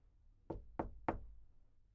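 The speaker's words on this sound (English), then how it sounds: "someone knocked at my door" Three evenly spaced knocks on a wooden door, sharp and close, with quiet before and after.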